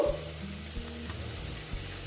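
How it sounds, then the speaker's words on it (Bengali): Garlic, ginger and tomato frying in a pan for a soybean curry, a quiet continuous sizzle with a couple of faint stirring knocks. "আর একটু ভালো মতন ভাজতে হবে কারণ রসুন আর আদার কাঁচা ভাগটা কাঁচা গন্ধটা যেন চলে যায়"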